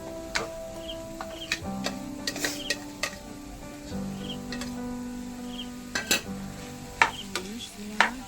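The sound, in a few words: chicken mince added to pan and stirred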